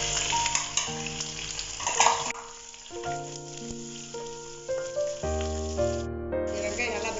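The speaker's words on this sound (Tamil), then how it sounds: "வெங்காயம் நல்லா பிரவுன் ஆகிற வரைக்கும் வதக்கி எடுத்துக்கங்க." Onions with ginger, garlic and chillies sauté in hot oil in a pan, giving a loud, continuous sizzle with stirring scrapes and a voice over it.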